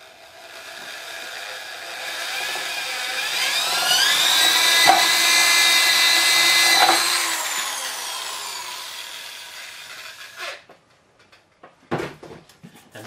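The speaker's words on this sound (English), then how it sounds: "Cutting out the slot, of course, is going to involve drilling a hole." A power drill whines steadily for several seconds, its pitch rising and holding as it bores a hole through wood, then cuts off, followed by a few sharp knocks.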